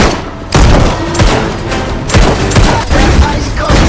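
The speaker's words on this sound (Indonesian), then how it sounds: "tembak-tembakan yang tak terkendali pun akhirnya pecah secara tak beraturan" Chaotic gunfire in an uncontrolled film shootout: loud, dense bursts of overlapping shots and heavy booms crackle in rapid, irregular volleys, with a few brief voices buried under the barrage.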